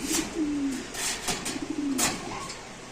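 Racing pigeons coo at a pigeon market, several soft throaty calls repeating in short phrases, close by, with wing flaps and faint background bustle.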